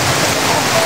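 Rain falls outdoors as a loud, unbroken wash of noise, steady and close throughout, with no voices.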